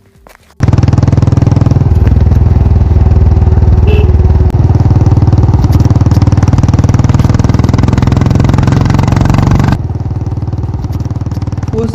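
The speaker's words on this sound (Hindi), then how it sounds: "फिर मोगली चुपचाप अपनी पिताजी की बाइक लेकर कॉलेज की ओर चल पड़ता है।" A father's motorcycle in a Hindi cartoon roars to life after a brief quiet start and rides away with a loud, steady engine drone that drops in level toward the end.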